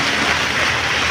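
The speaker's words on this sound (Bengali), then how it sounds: "অনেক সুন্দর বৃষ্টি হচ্ছে আলহামদুলিল্লাহ" Rain falling steadily, a dense, even hiss of drops close by with no pauses and no voices.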